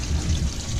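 Grey water running out of the holding tank of a campervan, with a steady low gushing flow from a pretty full tank that continues without a break and carries no voices.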